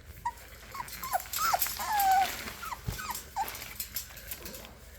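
Puppies whimpering and yipping in short, high, plaintive cries scattered across the moment, close by and fairly soft, with a brief thump partway through.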